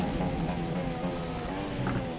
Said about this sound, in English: Oh, way over rev there.